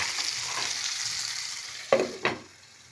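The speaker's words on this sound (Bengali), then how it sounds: "এভাবে করে ভাজতে দিই" Vegetables for navratan sizzle steadily in a hot pan, a soft continuous hiss broken by two sharp scraping stirs near the end, with no voices.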